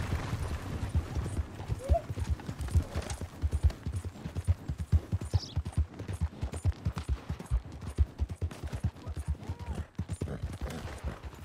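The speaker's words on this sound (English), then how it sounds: "Cavalo ali é cavalo de rico." Horse hooves clip-clop in a steady trotting rhythm, close and clear across the whole stretch, in the Red Dead Redemption 2 video game on Xbox One X, with faint background game sounds.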